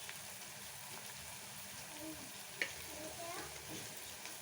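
Onions frying in a pan for mutton keema give a steady, soft sizzle throughout, with a single sharp clink partway and faint voice traces in the background.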